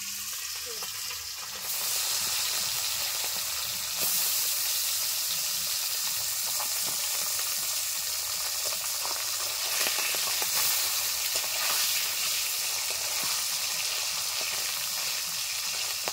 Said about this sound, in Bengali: আগে মাছগুলো ভেজে নিচ্ছি। ছোট ছোট ট্যাংরা মাছ।